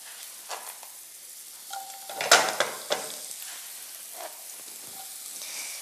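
Spring onions sizzle and fry in a hot pan, a soft continuous crackle with a few sharper pops and stirring scrapes, close and fairly quiet, with no talking.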